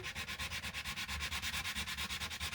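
Sandpaper rubbed back and forth over a wooden popsicle stick frame, a rapid, even rhythm of raspy scratching strokes, close and steady, with no voices.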